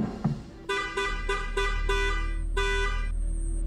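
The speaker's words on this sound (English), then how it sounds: "What is this car honking so loudly?" A car horn honks loudly in a series of five or six short blasts followed by one longer one, close by, over a steady low rumble of traffic or an engine.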